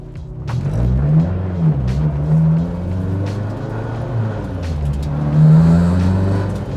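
A car engine rumbles loudly from inside as the car drives around the block, its pitch climbing and dropping repeatedly as it accelerates through the gears.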